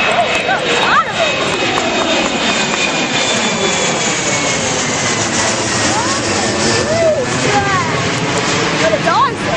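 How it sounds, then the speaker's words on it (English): A US Airways Express Embraer 170 jet roars at Ronald Reagan Washington National Airport, a loud sustained engine whine and rumble with shifting tones, while people talk over it. "Another U.S. Airways Express Embraer 170."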